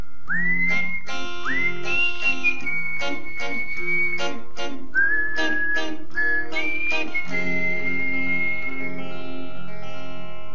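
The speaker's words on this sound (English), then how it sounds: "You can also whistle." A person whistles a Hindi film song melody over a strummed acoustic guitar E minor and D chord progression, clear sustained whistled notes with slides, close and prominent, with no talking.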